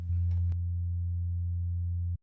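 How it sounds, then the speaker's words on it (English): A synthesizer sub bass patch with all the top end rolled off: a brief brighter attack at the start, then a pure, steady low sine tone that holds for about two seconds and cuts off cleanly, heard alone. "all you hear is the sub bass from this patch"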